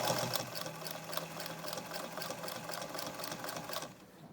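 A sewing machine runs steadily while stitching a quilted fabric bowl cozy, a fast even whir with light rhythmic ticking of locking stitches, close and alone, winding down at the end.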